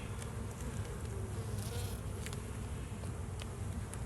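Dense, steady buzzing of many honeybees close by at an open hive during inspection, a continuous droning hum with no talking.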